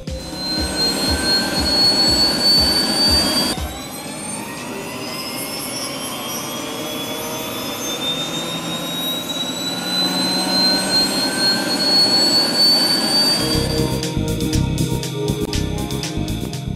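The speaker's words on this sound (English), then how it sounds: "Whenever a heli starts, with that distinctive whine and whistle of the turbines, there's an immediate rush of adrenaline." A helicopter turbine engine gives off a loud, continuous whine with a slowly rising whistling tone, close by, with the pitch and texture shifting partway through.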